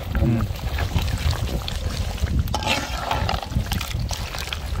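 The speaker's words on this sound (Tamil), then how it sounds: "நம்ம கொஞ்சமாக தண்ணி சேர்த்துக்கலாண்ணா." Water being poured into a pan of black (kala) mutton gravy, Maharashtrian style, a steady liquid splash running through the clip beneath cooking-area noise.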